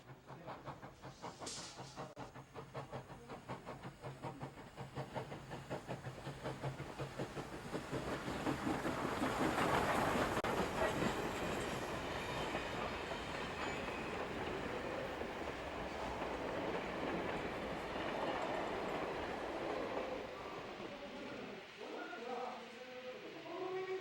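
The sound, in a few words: HO scale model trains running on layout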